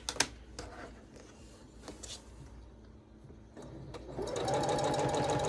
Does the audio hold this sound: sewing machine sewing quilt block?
yes